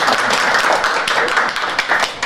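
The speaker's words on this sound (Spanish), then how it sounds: "Un aplauso." A group applauds for a child during a crafts visit, loud steady clapping from several people close by, continuous for a couple of seconds.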